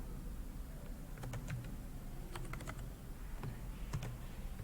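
Close typing on a computer keyboard while a quiz question is entered in Google Forms: irregular bursts of light plastic key clicks with short pauses between words, steady and unaccompanied by voices.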